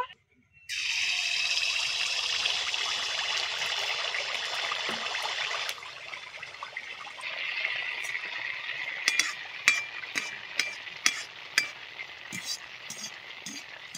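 Carrot malpua batter drops into hot oil in a pan and fries with a loud, steady, close sizzle, followed by several sharp pops and crackles as more batter goes in.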